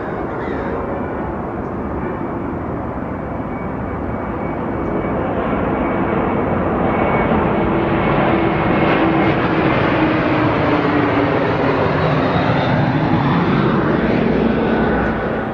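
A fixed-wing airplane passes overhead near an outdoor amphitheater, a broad, loud engine roar that swells and holds steady throughout, with no voices.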